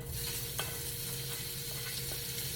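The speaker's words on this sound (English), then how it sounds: "I'm going to drop this in this olive oil" Meatloaf fries in hot olive oil in a pan, giving a soft, steady sizzle with a few faint scrapes and clicks, close by and quiet, with no voices.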